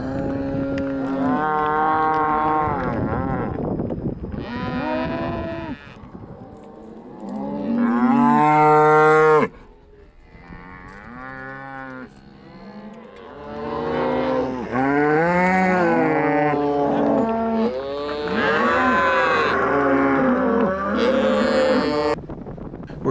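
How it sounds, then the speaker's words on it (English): Cattle on a cattle drive along a road in the Rocky Mountains moo repeatedly, with long, loud, close calls from several animals overlapping and a low engine rumble in the background. "getting caught up in a cattle drive"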